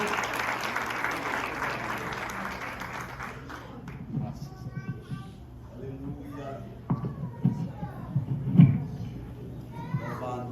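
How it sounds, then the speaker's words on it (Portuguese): Church congregation clapping together during a worship service, a brisk burst of applause for a few seconds that gives way to scattered voices, children's chatter and someone speaking nearby. "Você pode aplaudir ao Senhor mais uma vez, para ver o pastor?"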